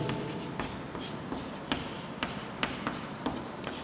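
A pen or chalk writes out a maths lesson by hand, a soft continuous scratching punctuated by regular tapping strokes, close and quiet with no talking.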